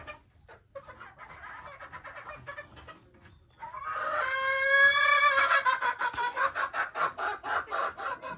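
Pet chickens being fed cluck softly at first, then one hen breaks into a loud, drawn-out cackle close by, followed by a rapid series of rhythmic clucks.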